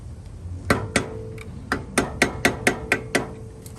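Hammer blows folding over a tab on front brake parts of a Toyota 100 Series Land Cruiser, about a dozen sharp metallic strikes close by, a few spaced early, then a quicker steady run.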